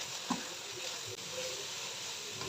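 Carrot, capsicum and cabbage hit a hot pan, giving a broad, steady sizzle throughout with a brief clatter near the start as the vegetables go in.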